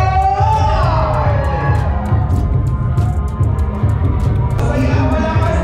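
A crowd of children and guests yelling and whooping at a birthday party in Lubao, Pampanga, a loud sustained roar of mixed voices with scattered sharp claps on top.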